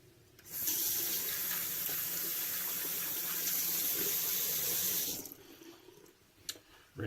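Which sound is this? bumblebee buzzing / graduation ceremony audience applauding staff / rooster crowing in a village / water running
water running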